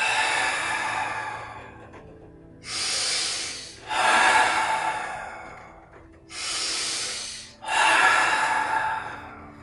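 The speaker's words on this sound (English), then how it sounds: "Take a deep breath in. Exhale, drop." Deep, close breathing during a warrior yoga session: two pairs of long audible breaths, each a steady inhale followed by a stronger exhale, with quiet pauses between.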